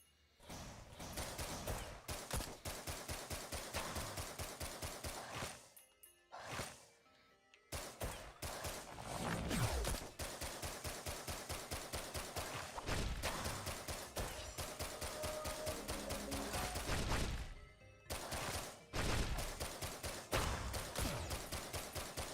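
Rapid continuous gunfire in the video game Risk of Rain Returns, dense repeated shots running almost nonstop for over twenty seconds with a couple of short breaks, loud and close.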